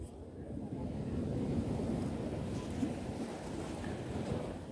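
Surf washing on Beau Vallon beach in the Seychelles, a soft continuous roar of waves with wind buffeting the microphone, fairly faint and steady.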